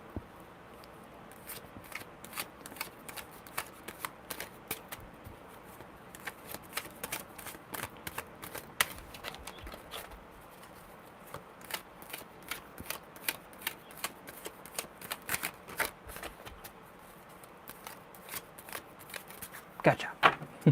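Tarot cards are shuffled over and over, with repeated crisp riffles and snaps in bursts, close up, and a voice speaking at times.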